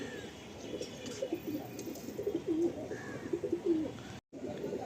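Madrasi pigeons coo repeatedly nearby, soft throaty rolling calls rising and falling in short bursts over a faint background hum, with no talking.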